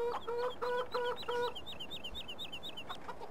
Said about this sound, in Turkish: Horoz. Ötle bakayım.